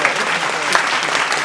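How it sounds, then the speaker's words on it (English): A burst of audience clapping at a Martin Luther King Jr. Day podcast gathering, loud, close and continuous across a short stretch. "Can we clap it up for that?"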